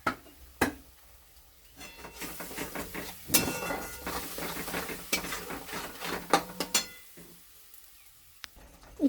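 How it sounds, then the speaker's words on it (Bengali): Spice masala with salt, turmeric and red chilli powder being stirred and fried in a pan for egg curry, with scraping utensil strokes and clinks against the pan over a soft sizzle, close and fairly quiet, no talk. "এবার মশলাটা ভালো করে কষবো।"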